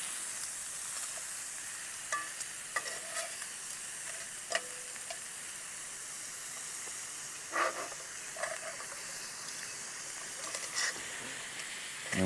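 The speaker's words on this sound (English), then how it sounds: "But you really just kind of let these sizzle up," Steady sizzling and hissing from Philly cheesesteak meat on a hot camping griddle, with a few faint clicks and scrapes, no talking.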